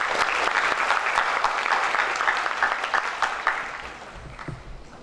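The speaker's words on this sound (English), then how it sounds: "Please give a big applause to Dr. Hilmun Izzar." An audience at an Islamic finance and economics forum applauds a presenter, a dense sustained clapping that gradually thins and fades toward the end.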